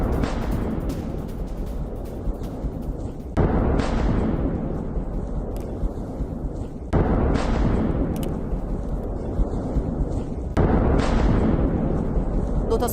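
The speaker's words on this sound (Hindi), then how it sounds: "बेलगोरोद में सुने गए हैं 10 से ज्यादा धमाके। सुनिए ये आवाज" Several heavy booming explosions from a drone and missile attack on Belgorod go off one after another at intervals, each a sudden loud blast trailing into a rumbling roar, with faint talk beneath.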